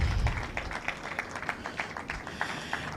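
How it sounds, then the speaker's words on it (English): Scattered applause from an audience, soft and somewhat distant, claps pattering steadily for a few seconds. "let's keep the applause coming."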